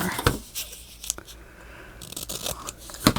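Scissors trim paper for a Stamperia roses-and-lace craft project, making a few crisp, close snips and scraping cuts in an irregular rhythm, with no voices.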